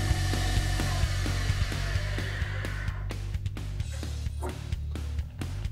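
A Tormach 15L Slant-PRO lathe spindle runs with a steady mechanical hum and whine, punctuated by faint intermittent clicks and ticks, close and continuous.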